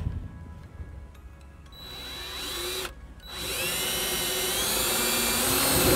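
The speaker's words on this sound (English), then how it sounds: "Then I'll take the self-tapping screw and ground off the grounding wire to" A power drill drives a self-tapping screw into the body of a 2014-2018 Subaru Forester during trailer wiring work, whining loud and close for several seconds with a brief pause midway.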